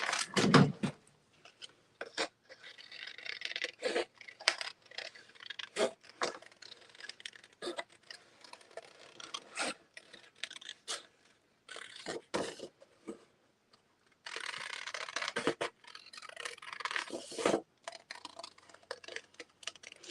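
Scissors cut out a paper embellishment for a junk journal, with quiet irregular snips and paper rustles close by, some bursts of denser crinkling, and no talk.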